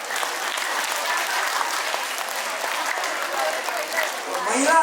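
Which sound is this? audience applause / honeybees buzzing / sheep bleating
audience applause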